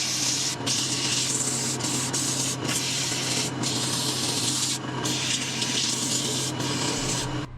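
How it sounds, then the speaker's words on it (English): Abrasive paper rubs against a woodturning spinning on a lathe, working through grits from 80 to 320; a loud, steady close-up hiss with brief pauses where the sandpaper lifts off, over the low hum of the lathe. "now we're just going to sand from 80 to 320"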